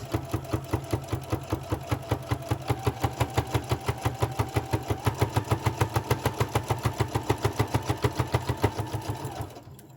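A sewing machine stitching through many thick fabric layers of a mask, running in a steady fast rhythm of loud, even thumps for nearly ten seconds before stopping abruptly.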